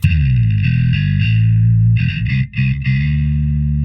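An electric guitar played through a Line 6 POD Express on its modern distortion preset rings out in thick, sustained distorted chords, loud and close, with a brief break before strumming resumes.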